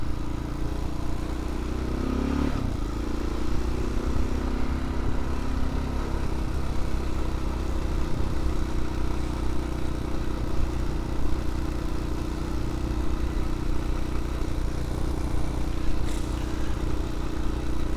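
A motorcycle engine idles and runs steadily throughout, a continuous low rumble with a faint clatter and a brief knock early on.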